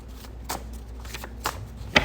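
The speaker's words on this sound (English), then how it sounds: "And then shuffle another deck that I have with messages." A deck of message cards being shuffled by hand, with a few crisp riffles and snapping card flicks spaced irregularly over a quiet background.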